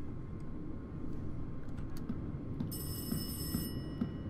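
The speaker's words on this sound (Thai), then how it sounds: "โทรศัพท์ ในสวนเนี่ยนะ" A telephone in a garden rings in the video game Rise Of Insanity: one short, bright burst of electronic ringing late in the clip over a low, steady background rumble.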